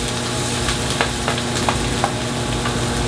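Onions sizzle steadily in hot oil in a pan for Filipino chicken tinola, a close, continuous frying hiss with a few soft clicks of stirring, no talk.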